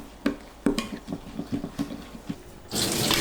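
Salted eggplant is handled in a sink and rinsed under running tap water. Several clunks and knocks of dishes and produce come first, then a steady, close rush of tap water takes over near the end, with no talking.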